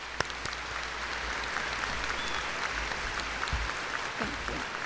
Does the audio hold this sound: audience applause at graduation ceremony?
yes